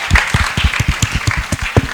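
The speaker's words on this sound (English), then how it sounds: "I invite us all to give one massive round of applause for our fantastic entrepreneurs on the panel" Audience applause for entrepreneurs on a summit breakout panel: a loud, steady round of clapping with dense overlapping claps throughout, no talking.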